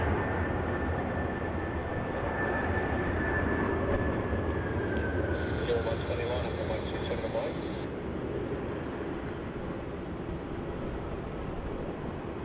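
An airliner on a wet runway at Melbourne Airport rolls and brakes after landing, giving a steady broad roar with a falling whine. People talk over the noise, which lasts the whole stretch at an even level.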